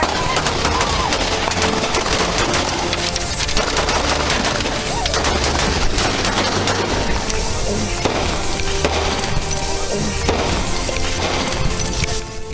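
Gunfire erupts during a close-range police confrontation with a shooter at a vehicle, dense and continuous with sharp cracks and breaking-glass-like bursts over heavy background noise, loud and near, with faint shouting voices mixed in.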